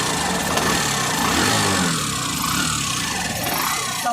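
Hero Passion Pro BS6 motorcycle engine idling steadily after an engine repair, a continuous close mechanical hum with no speech.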